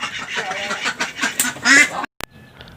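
Several ducks bought for the Magh Bihu festival give repeated loud, nasal quacks close by, overlapping for about two seconds before falling quiet, with a brief click at the end.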